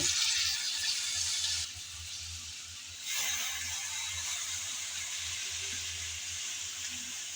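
Washed drumstick greens go into a salted pan with a broad, steady hiss that dips into a brief lull before surging back and holding at an even level to the end.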